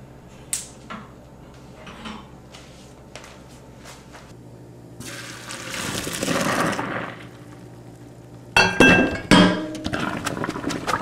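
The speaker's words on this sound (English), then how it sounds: "My pasta's done boiling. Now I'm going to drain it." Clinks of a metal pot, then a broad rush of boiled pasta water pouring out as it drains, followed by clattering of cookware close by.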